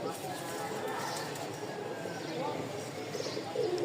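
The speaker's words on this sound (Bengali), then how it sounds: "উড়াবাজির রানিং একটা মাস্টার পেয়ার।" Rajshahi Giribaz pigeons coo softly in the background while someone talks throughout, with faint birdcalls and soft shuffling around them.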